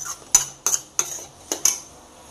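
A spoon strikes a cooking pan about six times in an uneven rhythm while red chilli powder, coriander-cumin powder and turmeric are stirred in for butter chicken. The metallic clinks are close and crisp, with no talk.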